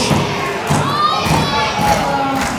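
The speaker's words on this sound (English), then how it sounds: "The crowd are absolutely blown away, Shane Hero!" Thunderous crowd at a live professional wrestling show in Bacchus Marsh roars and cheers right after a multi-man Tower of Doom spot, with heavy thuds and children shouting through a loud, sustained din.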